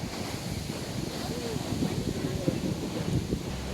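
Rough sea surf rolls against a black sand beach below a tall cliff, a continuous roar heard from above with wind buffeting the microphone.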